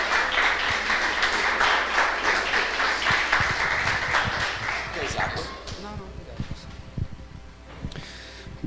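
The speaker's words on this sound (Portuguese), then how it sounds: "Aplauda o Senhor Jesus recebendo o servo do Senhor." A church congregation applauds to welcome a visiting preacher at a Portuguese-language service; loud sustained clapping fills the first half, then thins into scattered claps and fades.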